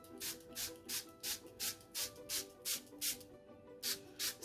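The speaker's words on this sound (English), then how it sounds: "So I'm just spraying towards the outside" A spray bottle mists water onto a coffee filter in quick, regular bursts of soft hiss, about a dozen evenly spaced squirts close to the mic, with one brief pause before the last few.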